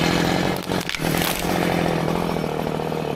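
Chainsaw cutting through a tree on a farm, running loud and steady at high revs for the whole stretch, with a brief dip in pitch and load near the start, close by and without talk.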